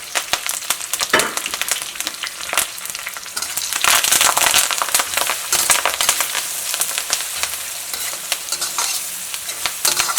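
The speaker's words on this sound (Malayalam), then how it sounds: "ഇഞ്ചിയും വെളുത്തുള്ളി നന്നായിട്ടൊന്ന് വഴന്ന് വരണം കേട്ടോ." Garlic, green chilies and curry leaves sautéing in oil for Kerala fish pickle, a loud, busy crackling sizzle with rapid popping and frequent stirring scrapes throughout.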